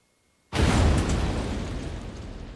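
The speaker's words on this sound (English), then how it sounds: "Every explosion begins with a thermal event, a rapid burst of fire or extreme heat." A car bomb explodes with a sudden deep blast that breaks out of silence, then holds as a loud, broad roar that slowly tails off without fading out.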